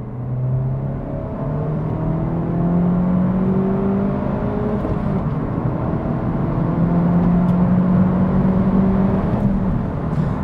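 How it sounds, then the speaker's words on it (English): A Honda Civic Type R accelerates hard from inside the cabin, its engine note rising through the gears in repeated climbing sweeps over a steady road rumble, with no talking. "you can put your foot down and then this thing goes like a rocket"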